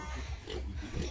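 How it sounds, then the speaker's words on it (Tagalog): A pig grunts and snuffles up close, a couple of low rough oinks within about a second, with no speech. "Ngayon meron ng baboy."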